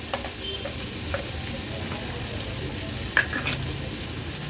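A large finely chopped onion frying in oil in a pan, a steady close sizzle with occasional stirring clinks and one sharp utensil tap, no talking.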